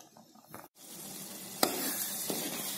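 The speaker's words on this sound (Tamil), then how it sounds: "ஒரு சிம்ல வச்சு ஒரு 10 நிமிஷம் நல்லா கொதிக்க விடலாம்." A pan of pidi karunai tamarind gravy sizzles and bubbles softly and continuously on a low flame, with a brief silent gap near the start and a couple of small pops.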